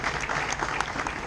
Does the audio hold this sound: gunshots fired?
no